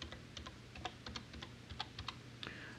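Someone typing a password on a computer keyboard, a quiet, close run of irregular light key clicks.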